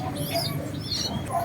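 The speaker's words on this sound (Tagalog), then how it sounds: "Ito guys yung mga binubiwi nating ibon." Racing pigeons coo softly in a loft, with repeated low throaty calls and faint chirps close by against a steady background hum.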